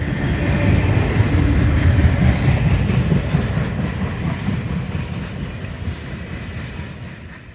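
Freight train 26A rolls past near Bynum siding in Alabama while slowing, a loud, close rumble with rail clatter that gradually fades as the cars go by.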